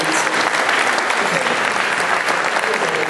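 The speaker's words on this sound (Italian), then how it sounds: "facciamo ancora un bel applauso" Dense, loud applause from an audience at an evening award ceremony, steady clapping filling the whole stretch with crowd voices mixed in.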